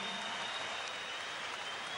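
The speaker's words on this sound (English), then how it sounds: "a round of applause for both boxers who gave their all" A boxing arena crowd applauds both fighters after the bout, a dense steady wash of clapping that fills the space without a break.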